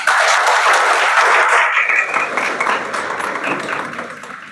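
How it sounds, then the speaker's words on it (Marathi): Loud applause from a meeting audience at a cooperative society's annual general meeting, dense clapping that starts at full strength and slowly thins and fades over a few seconds. "एकदा स्वतःसाठी जोरदार टाळ्या वाजवा"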